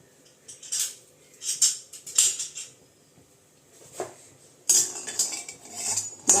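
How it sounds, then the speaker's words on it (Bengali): Peanuts are stirred in a little oil in a metal kadai, with bursts of scraping and clinking from the utensil against the pan, separated by short quiet pauses. "এবার এর ভেতরে কিছুটা বাদাম আমি তেলে নেব কড়াইতে"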